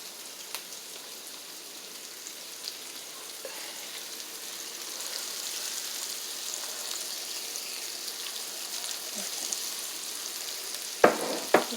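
Food being stirred in a frying pan while cooking cabbage before steaks go in, a soft continuous sizzle with faint scrapes that builds slightly, then two sharp knocks near the end.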